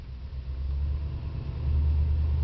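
A 1981 Cadillac Coupe Deville with a 368 cubic-inch V8 idling, a steady low rumble that swells a little louder toward the end, heard close up with no talking.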